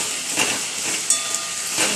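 Ginger and chili paste sizzling in hot oil in a frying pan, a bright continuous hiss with a few sharper crackling pops, close and fairly loud.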